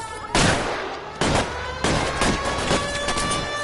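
Gunfire in L.A. Noire cracks out in about four loud, separate bursts spaced roughly a second apart, each with a sharp attack and ringing tail, close up over a tonal background hum.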